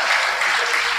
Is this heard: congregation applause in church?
yes